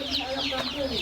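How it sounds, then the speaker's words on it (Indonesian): KUB native chickens clucking inside a chicken coop, several birds making overlapping soft clucks and calls, close by, with a voice talking underneath. "Yang kita pelihara di sini ayam KUB, Pak. Ayam Kampung Unggul Balitbangna dari Kementerian Pertanian."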